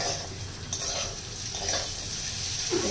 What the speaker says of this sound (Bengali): এটা মোটামুটি হালকা হালকা ফ্রাই হয়ে গেছে